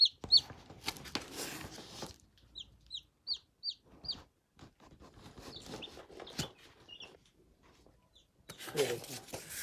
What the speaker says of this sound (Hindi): थोड़े थोड़े चिक्स उठाकर हम इसमें